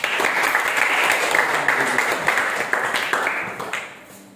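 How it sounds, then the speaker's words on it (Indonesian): A class of students claps after a group presentation. The applause is steady and fills the room for about four seconds, then fades out at the end. "Ya, berikan tepuk tangan."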